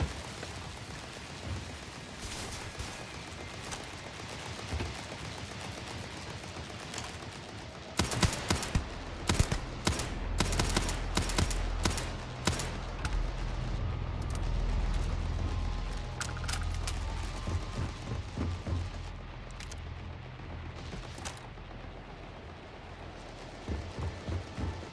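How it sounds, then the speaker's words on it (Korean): Bursts of rapid gunfire crackle in the Starfield video game, starting quietly and then erupting into loud, dense volleys with heavy low booms partway through, fading toward the end. "어디서 총 계속 쏘는데?"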